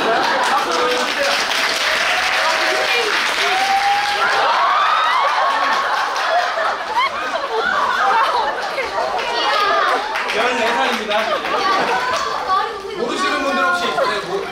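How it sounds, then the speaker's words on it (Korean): A theatre audience applauds and cheers at a musical's curtain call, with sustained loud clapping throughout and excited voices and chatter rising over the crowd. "박수 보여주세요."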